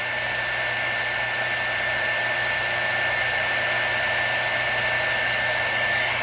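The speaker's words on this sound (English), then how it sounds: "I'm going to leave my embossing tool on" Embossing heat tool blowing steadily in a crafting session, a constant close, loud whooshing hiss with a faint high whine, unbroken for the whole stretch.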